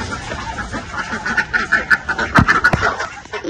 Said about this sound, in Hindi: पहले मुर्गियां पकड़नी है निशा